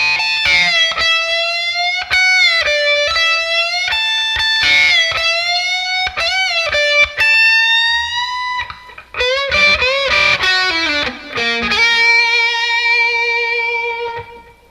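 A distorted electric guitar plays the slow opening of a solo, with sustained singing notes, bends and slides, and a few brief gaps between phrases, loud and alone.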